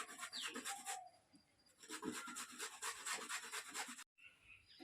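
Carrots are grated by hand for gajar halwa, making a faint, steady rasping with repeated rubbing strokes, a short pause and then more strokes with no voices.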